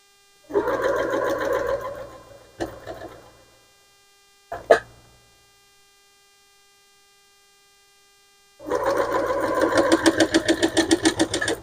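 A sewing machine stitches place-mat seams together in bursts: a sustained run, a few short stops and starts, a pause in silence, then a long steady run with a pulsing rhythm, close and fairly loud.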